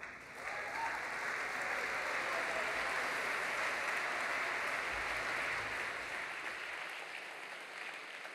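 Sustained audience applause welcoming Dr. Gilbert to the stage at a talk on soil health and human health, a dense even wash of clapping from a large crowd that holds steady for about six seconds before thinning out near the end.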